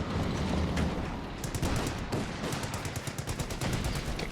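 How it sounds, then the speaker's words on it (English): Dense bursts of machine-gun fire in Company of Heroes 2 crackle continuously, with repeated automatic volleys and scattered sharp shots over a constant noisy battle din. "Oh, blue player's MGs here."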